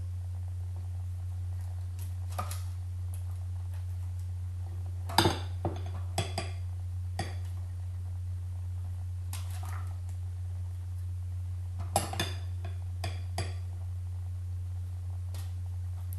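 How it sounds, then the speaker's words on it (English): Chickpea mixture is spooned into a metal loaf tin, giving scattered light clinks and taps of a spoon against metal. They come in small clusters over a steady low hum. "I'm going to put a tablespoon of each mixture into each of the loaf holes"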